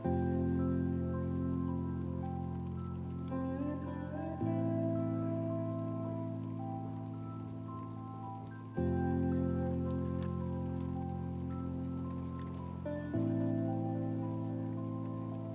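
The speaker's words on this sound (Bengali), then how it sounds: "তেলটা ভালো করে গরম হয়ে গেলে আমি একে একে কাটা পেঁয়াজ, আদা, রসুন, টমেটো এবং কাঁচা লঙ্কাগুলো ভাজতে পারি" Onion, ginger, garlic, tomato and green chillies fry in hot oil for a Bengali chicken kala masala. A continuous hissing sizzle runs throughout at an even level, with a steady tonal hum underneath and no speech.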